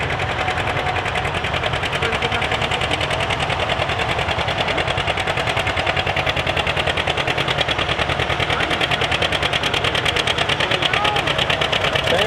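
A tractor-pulling vehicle running two engines at a show gives a rapid, machine-gun-like engine chatter, loud and steady throughout, with faint voices in the background.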